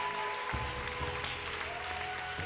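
A church congregation claps and acclaims in a brief, fairly faint burst of applause, with musical tones underneath.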